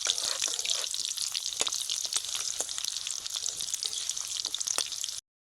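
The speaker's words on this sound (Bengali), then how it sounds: "জবা ফুলটাকে তেলের মধ্যে কিন্তু খুব ভালোভাবে ভাজতে হবে যত সময় না পর্যন্ত ফুলগুলো একদম কালো হয়ে যাচ্ছে" Hibiscus flowers frying in oil, a steady close crackling sizzle with fine popping spatters, even and continuous until an abrupt stop.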